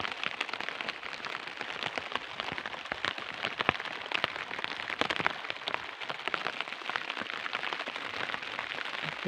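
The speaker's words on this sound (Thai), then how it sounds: "ฟังเสียงฝนตก" Steady rain patters densely on surfaces outdoors during a mushroom-gathering trip, with scattered sharper drops cracking through a continuous hiss, no voices.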